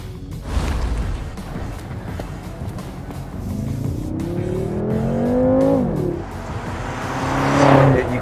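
A BMW M5 being driven hard, engine revving up through rising gears with some tire squeal, then easing off as it slows under braking, heard close and fairly loud.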